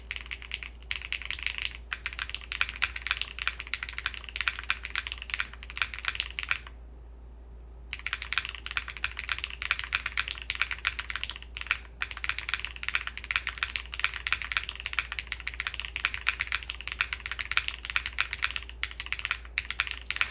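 Continuous typing test on a Cinque 60 mechanical keyboard, heard from the background as a steady stream of rapid, even keystrokes for the whole stretch, broken by one short pause partway through.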